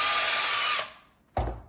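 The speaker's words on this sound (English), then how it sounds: "I put the number 12 in the drill" A power drill spins a wire stripper bit on number 12 wire, a steady high whine for under a second that cuts off, then a short second burst of motor noise.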